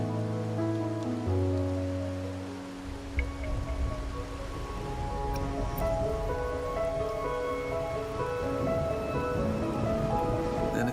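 Steady rain falling at night in the video game Wuthering Waves, a soft even patter beneath sustained background music, with no talking.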